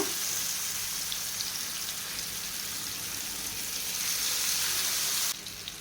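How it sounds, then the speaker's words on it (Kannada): Marinated fish frying in hot coconut oil, a steady close hiss and crackle of sizzling oil running throughout, the bright spitting noise staying loud and even before dropping slightly near the end. "ಈಗ ಫಿಶ್ ಫ್ರೈ ಮಾಡಲು ನಾನು ತೆಂಗಿನ ಎಣ್ಣೆಯನ್ನು ಹಾಕ್ಕೊಳ್ತಾ ಇದ್ದೀನಿ ಎಣ್ಣೆ ಚೆನ್ನಾಗಿ ಬಿಸಿಯಾಗಿದೆ ಈಗ ನಾವು ಮ್ಯಾರಿನೇಟ್ ಮಾಡಿಟ್ಟಂಥ ಮೀನನ್ನು ಹಾಕ್ಕೊಳ್ಳೋಣ"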